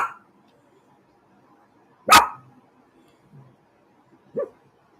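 A dog barks in short, separate bursts, two or three sharp barks spaced a couple of seconds apart against near silence, fairly close and loud.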